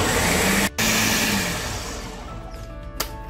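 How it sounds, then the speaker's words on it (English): A blender runs steadily, pureeing bananas, coffee and milk into a thick mix, its loud whirring motor holding constant apart from a brief cut near the start and a sharp click toward the end. "So we will blend this first into a nice thick puree and then add the ice cream."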